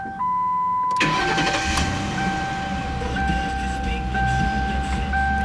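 A 2007 Ford Crown Victoria P71 police-package sedan with 137,000 miles cranks briefly and fires up, then settles into a steady loud idle close by while an electronic chime tone keeps sounding and a voice speaks briefly.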